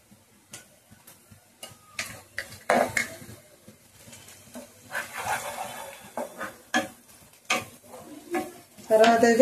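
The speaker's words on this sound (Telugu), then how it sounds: "చూసారా ఉల్లిపాయలు అయితే చక్కగా ఎర్రగా వేగినాయండి. అప్పుడు నేను ఇందులో అయితే కొంచెం పసుపు వేస్తున్నాను." Onions sizzle in a pan for a beef liver fry as turmeric goes in, with intermittent scraping and stirring clatter of a spoon over a soft, steady hiss, growing busier and louder toward the end.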